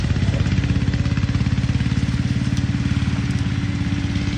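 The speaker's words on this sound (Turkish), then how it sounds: "Traktörümüz Başak 17." A steady, rumbling Başak 17 tractor engine chugs along at a constant pace, its low rhythmic throb continuous and fairly close throughout.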